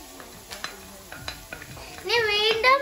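Chinese noodles tossed with cabbage in a pan, heard as scattered metal utensil knocks and scrapes over a low frying hiss, building to a louder, brighter sizzle toward the end.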